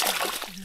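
Water splashing around an old wooden boat, a short close slosh and splatter lasting under a second, with a voice briefly heard over it.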